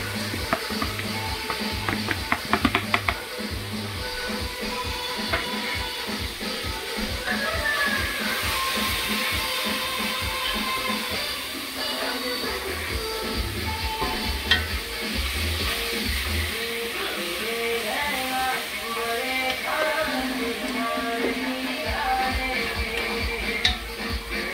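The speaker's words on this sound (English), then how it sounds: "Let this fry up for like 2 to 3 minutes" Guyanese-style dry fish, stripped of skin, frying in a pan: a steady soft sizzle with scattered ticks and clinks of stirring, continuous throughout at moderate level.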